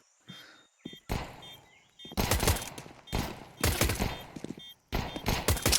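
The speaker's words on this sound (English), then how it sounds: "So many shots, nothing connecting yet." Bursts of automatic gunfire ring out in a Counter-Strike match, several loud volleys separated by short pauses, with quieter footsteps and clicks between them.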